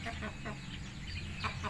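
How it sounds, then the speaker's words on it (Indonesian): A Brahma hen about to lay an egg clucks in short, repeated bursts, close and fairly loud, over a steady low background hum. "Brahma mau bertelur."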